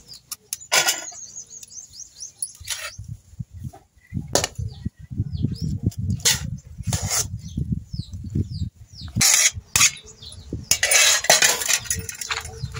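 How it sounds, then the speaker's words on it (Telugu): Snake gourd pieces pounded in a mortar for pickle: repeated dull thuds and grinding knocks of the pestle, close and fairly loud, mixed with sharp clinks of utensils. "ఇవైతే మెత్తగా దంచుకుందామండి."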